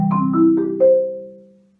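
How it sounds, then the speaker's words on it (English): Marimba bars struck with a soft yarn-wrapped mallet give a few warm, rounded notes in quick succession, the last one ringing out and fading over about a second, close and alone. "So here I have a softer wrapped mallet, and when I hit the bar, it sounds like this."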